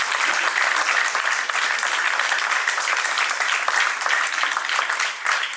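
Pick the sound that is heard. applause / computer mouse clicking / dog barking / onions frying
applause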